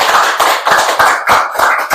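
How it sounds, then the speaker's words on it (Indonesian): Hands clapping in a studio talk-show setting, about eight quick, loud, close claps in an even rhythm with no talk over them. "Tepuk tangan dong."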